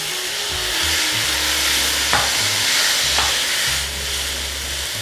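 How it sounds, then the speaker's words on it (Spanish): Fresh tomatoes sizzle in a pot of lentils as a spoon stirs, with steady frying hiss and soft scraping strokes close by and no talking. "Voy a poner ahora 2 tazas de tomate fresco."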